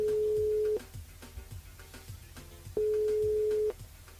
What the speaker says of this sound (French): Allez, on appelle Lucie du côté de Saint-Louis.